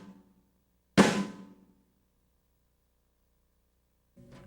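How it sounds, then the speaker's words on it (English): A single snare drum hit with the snares engaged, a sharp crack with a bright buzzing rattle that decays in about half a second, heard alone. "With the snares on, it'll sound like this."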